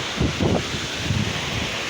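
Gusty wind buffets the microphone outdoors among crops after Typhoon Kristine, in low rumbling bursts, with a steady broadband rush underneath and no talking.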